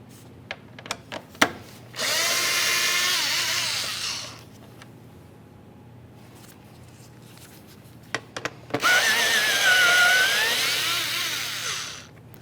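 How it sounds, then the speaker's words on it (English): Power driver with a T25 Torx bit backing out fog light mounting screws on a 2013-2020 Ford Fusion, two whirring bursts of a few seconds each, close and clear, separated by light clicks and handling noises. "Now we'll be using a T25 Torx bit to remove each of our 3 mounting screws."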